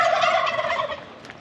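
Turkeys gobble in a rapid, close burst among chickens around a garden, the warbling calls loud and steady before tapering off, with no talk.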